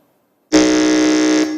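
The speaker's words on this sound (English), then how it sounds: "let's hear the sound from the buzzer" A quiz-contest answer buzzer at a school competition gives one loud, steady electronic drone that starts abruptly after a short silence and holds for about a second.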